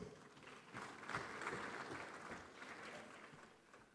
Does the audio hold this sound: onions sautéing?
no